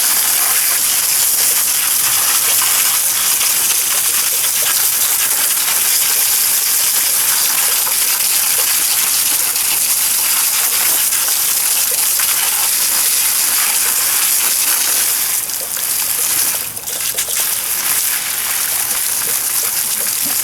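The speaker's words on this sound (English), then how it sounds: "So I rinse them off." Running water from a hose gushes steadily over freshly harvested garlic bulbs, a continuous close hiss with slight splashing variations and no talk.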